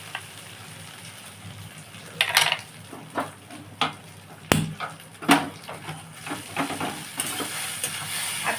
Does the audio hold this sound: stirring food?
yes